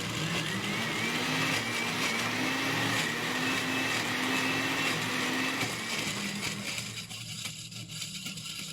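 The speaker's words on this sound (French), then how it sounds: "il suffit de bien fermer et de mixer jusqu'à ce que le mélange soit homogène" A blender whirs through a sauce mixture with a sustained motor drone and a slight pitch shift partway through, then eases to a lower, rougher hum near the end, close and alone.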